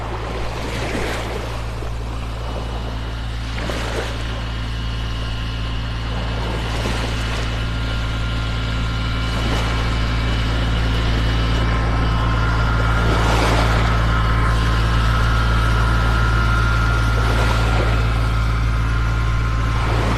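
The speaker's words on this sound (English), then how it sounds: "Tractor pulling a trailer down the beach." A tractor pulls a utility trailer along a sandy beach in North Naples, Florida, its engine a steady, low drone that continues throughout, mixed with the wash of surf and wind.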